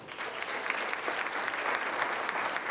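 Steady, dense applause from a large audience at a school academic excellence awards banquet, sustained and even throughout with no breaks, filling the room at close range.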